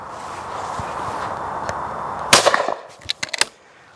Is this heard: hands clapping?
no